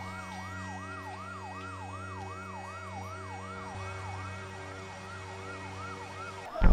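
A wailing emergency siren sweeping up and down repeatedly at moderate distance after an explosion in a workplace, steady and sustained over a low vehicle hum, with a sudden loud thump at the end.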